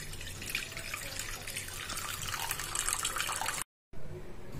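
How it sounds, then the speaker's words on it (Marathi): Water pours steadily into a pan on a lit gas stove while coconut kharvas is being made, a continuous splashing stream that breaks off briefly near the end before resuming. "इथे गॅस चालू केलेला आहे आणि आपण यामध्ये हे पाणी टाकणार आहोत।"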